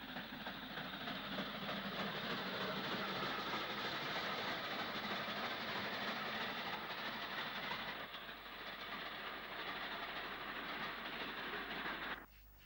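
An LMS Black 5 steam locomotive hauling a semi-fast train toward Bristol, a continuous loud roar of running wheels and rolling stock with a steady rumble, cutting off abruptly near the end.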